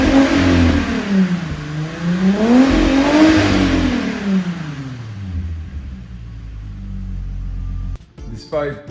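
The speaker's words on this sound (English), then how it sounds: "As far as I know, this engine is healthy. It sounds great." A Volkswagen Passat B4 with a 2.8 VR6 engine, fitted with a poor exhaust, revs loudly and close up, rising and falling twice in sweeping pulls before settling back to a steady idle.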